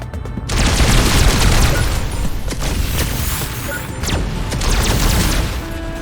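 Flak cannons firing in the space combat game Star Control: Origins, a rapid barrage of crackling blasts and booms that holds steady for several seconds, loud and dense.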